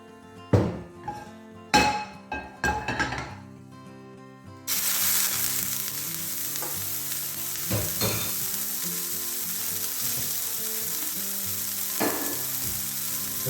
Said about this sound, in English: So the next stage is we're going to sear our beef. So get your pan on nice and hot. Just going to go in with a little bit of olive oil.